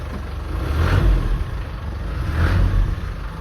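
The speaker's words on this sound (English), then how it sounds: "So you can come hear the exhaust note." A modified, tuned 1995 Land Rover Defender 90 rumbles nearby with a deep, loud exhaust note, swelling in two revs over a steady idle, with no voices.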